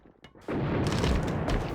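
A rush grenade explodes in the online shooter AVA during a competitive match, a sudden loud boom after a brief quiet moment, followed by a sustained rumbling blast.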